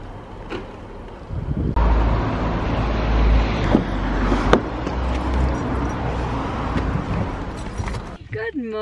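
A car engine idles steadily after starting on a dark, wet, rainy morning in England, a low broadband rumble with some clunks and rustles, and a voice briefly heard near the end.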